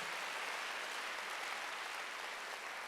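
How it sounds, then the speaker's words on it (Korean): Steady applause from a large church congregation at a Wednesday worship service, dense and even clapping sustained for a few seconds without voices. "박수 하나 돌리세요"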